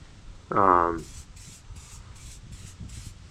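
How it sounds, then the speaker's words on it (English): Several short hissing sprays of heavy-duty rust protector from an aerosol can onto vehicle suspension parts, in a steady rhythm, close by, preceded by a brief burst of talk. "And I'm spraying it in all the suspension components as well."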